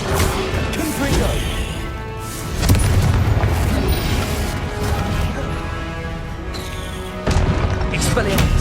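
Confringo blasting spells explode in Hogwarts Legacy, with heavy booming bursts over a dense battle soundscape, two sharp impacts standing out near the middle and end, and a voice present beneath the noise.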